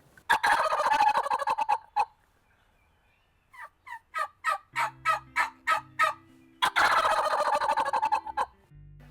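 A handheld turkey call imitates a wild turkey: a loud, rolling gobble opens the sequence, followed by a run of about eight sharp, evenly spaced cutting notes, then a second full gobble, all close and clear.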